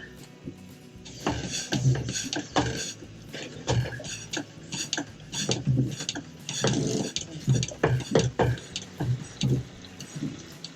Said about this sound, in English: giving this some pumps here to give us a nice vacuum on it